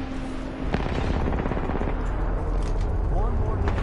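Rapid machine-gun fire rattles in a PS4 shooter game, dense bursts of shots over a rumbling backdrop, loud and close, with a voice talking briefly over it.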